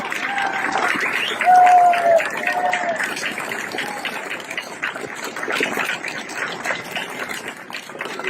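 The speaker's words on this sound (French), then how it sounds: "J'aimerais qu'on applaudisse très très fort Maître Brusa" Outdoor political rally crowd in a Strasbourg park applauding steadily, a broad wash of clapping with cheers mixed in, sustained at a fairly loud level throughout with no pause.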